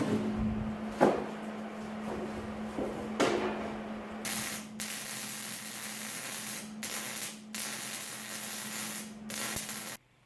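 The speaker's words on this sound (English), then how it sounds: "I'm going to flip this over and weld this back side right here" Welding on the back side of steel trailer fenders. A steady low hum runs throughout, then intermittent bursts of crackling, sizzling noise start and stop several times, fairly quiet and with no talking.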